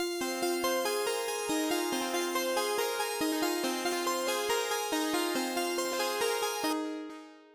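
Bright layered synthesizer chords pulse in a steady repeating rhythm, dense and sustained, then cut off and fade out at the end.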